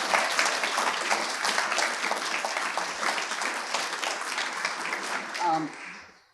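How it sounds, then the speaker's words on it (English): A crowd applauds in a broad, even wash of clapping that tapers off at the end, with a voice briefly heard as it fades. "another round of applause, please."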